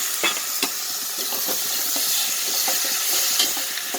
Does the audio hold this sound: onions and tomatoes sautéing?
yes